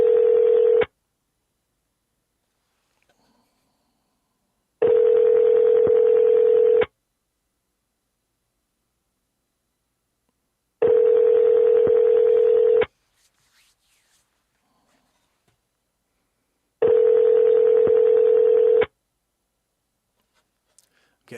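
Phone line tones repeating during cold calling: steady ringback bursts of about two seconds separated by long silences, clear and close.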